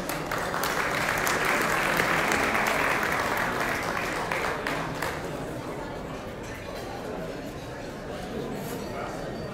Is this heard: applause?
yes